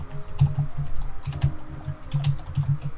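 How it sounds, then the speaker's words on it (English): Rapid keyboard typing during a live drawing show: clustered clicks and clacks come in quick bursts with short pauses, fairly close, with no one speaking. "I heard you typing"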